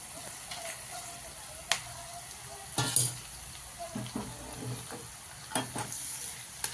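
Crumbled chapati frying and being stirred in a pan, a quiet low sizzle with intermittent spatula clinks and scrapes, close but faint, no talk.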